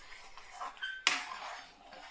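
A spoon clinks against a cooking pot while stirring chopped coriander and spices into vegetarian dalia khichuri, soft scraping with one sharp metallic clink midway, fairly quiet.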